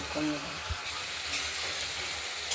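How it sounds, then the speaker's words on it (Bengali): Spice paste sizzles and fries in oil in a pan for a Bengali rohu fish curry, a steady close hiss with a few stirring scrapes and a faint voice in the background. "কষানো হচ্ছে, দেখতে থাকুন।"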